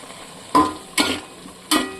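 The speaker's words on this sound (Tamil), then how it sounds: "இதை நல்லா மிக்ஸ் பண்ணிவிட்டு மஷ்ரூம் அதில் அள்ளி போட்டு மஷ்ரூமை குக் பண்ண போகிறோம்" Masala and mushrooms being stirred in a pan: three distinct scraping stir strokes, each followed by a brief sizzling tail, over a soft frying hiss.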